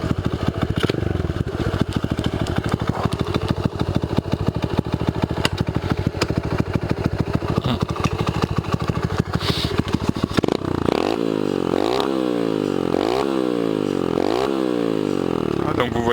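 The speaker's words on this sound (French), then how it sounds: "si on se met en quatrième, qu'on accélère vraiment légèrement, ça fait pas beaucoup de bruit" Honda Dax 125cc motorcycle engine accelerating in fourth gear, a steady close buzzing drone that later rises and falls in repeated revving sweeps, loud and without talk.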